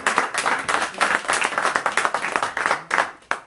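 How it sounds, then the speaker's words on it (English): A small group claps steadily for a few seconds, loud and close, then the clapping thins out into a few last scattered claps. "Let's give her a round of applause for letting us be here."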